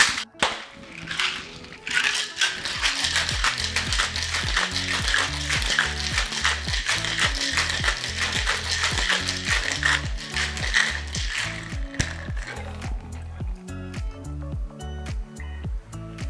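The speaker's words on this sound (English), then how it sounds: "Time to shake it." A margarita with tequila is shaken in a cocktail shaker, a long run of rapid, rhythmic rattling and clacking that starts after a brief pause and continues steadily, close and fairly loud, with no talking.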